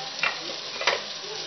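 Masala spices with black pepper powder, black rock salt, red chili and ginger powder being stirred into bhindi in a pan, two distinct scraping strokes over a faint, steady sizzle.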